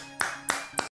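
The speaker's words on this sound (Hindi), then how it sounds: "रुको तालियां सुनो।" Three loud, close hand claps spaced evenly, each a sharp burst, followed by sudden silence.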